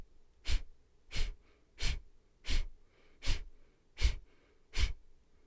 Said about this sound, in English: begin our practice with some Kapalabhati Pranayama, breath of fire